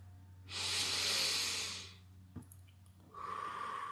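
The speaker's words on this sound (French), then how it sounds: "Je vais t'inviter maintenant à prendre 3 grandes respirations." Deep, slow breathing during a guided relaxation exercise: two long, airy breaths, one swelling steadily for about a second and a half, then another starting after a brief pause with a small click between, close and fairly soft.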